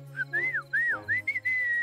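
A person whistles to call someone, a short run of clear rising and falling whistled notes that ends in one sustained tone, heard alone and fairly close.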